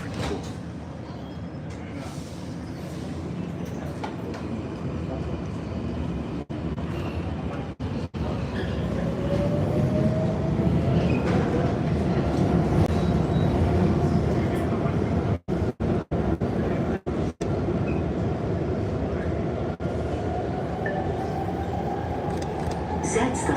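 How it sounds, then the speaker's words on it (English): Premetro trains at Brussels Gare du Midi pass each other in opposite directions, a loud steady underground rumble and rail roar filling the platform, swelling midway with a faint rising whine and brief dropouts. "another train is coming from the other side and your train is moving in the opposite direction"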